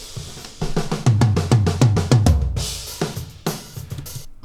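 A run of recorded tom-tom drum hits from a studio drum kit: punchy, resonant strikes in a quick fill, then a few cymbal-backed accents, loud and close.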